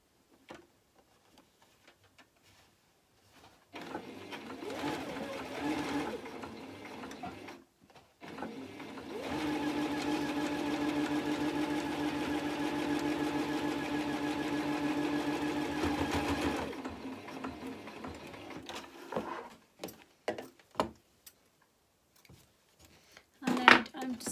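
A sewing machine runs straight stitches along the edges of a fabric mug caddy in two steady whirring passes, close and fairly loud, framed by quiet handling clicks and brief pauses.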